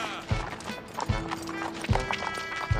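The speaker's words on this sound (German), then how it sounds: "Treib die Pferde an." Horses driven uphill by a group of riders, with hooves thudding in a loose irregular clip-clop rhythm at moderate distance, beneath scattered background voices.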